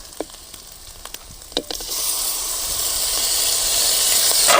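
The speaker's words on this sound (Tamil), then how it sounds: "நல்ல வெங்காயம் சேவக்க வேணும். வெங்காயம் நல்லா சேவந்துக்கிடுச்சு." Onions sautéing in a pan for a brinjal and drumstick gravy: a few faint taps, then a bright, steady sizzle that swells and grows louder toward the end, close and alone with no talk.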